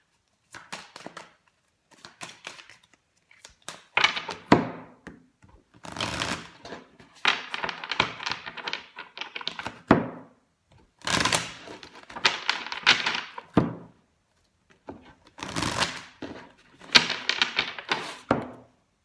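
A deck of oracle cards is cut and shuffled, with bursts of riffling, flicking and tapping in repeated clusters separated by brief pauses, close and clear.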